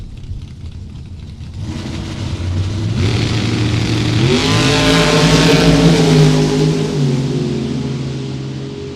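Drag race cars, including a Chevrolet Nova, launch off the line at a Super Pro event: a loud engine roar swells over a few seconds into a screaming, high-revving blast, then holds steady and begins to fade.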